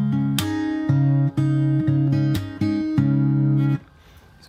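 Fingerstyle guitar playing the last bar of a song, holding one chord: plucked bass notes alternating in a steady rhythm under ringing strums and sharp accents, close and clear, fading out at the end.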